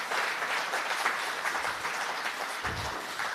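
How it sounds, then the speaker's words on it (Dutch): A live audience claps steadily at a Frisian poetry event, dense sustained applause from a room full of people with a faint low thump partway through. "Even een applausje."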